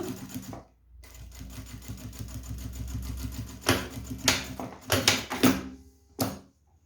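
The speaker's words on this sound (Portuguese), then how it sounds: "Vou passar a última costura aqui na parte de cima também, bem na beiradinha." Sewing machine running a slow top finishing seam along the upper edge of a fabric bag: a rapid rhythmic stitching patter in bursts, stopping and restarting with clunks of handling in between.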